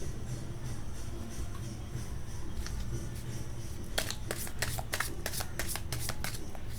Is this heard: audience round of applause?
no